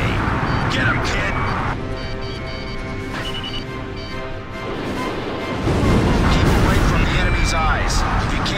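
Enemy aircraft cannon fire and explosions crackle through jet engine noise during an aerial mission in the Ace Combat 5 video game, with radio voices speaking over the loud, continuous combat din.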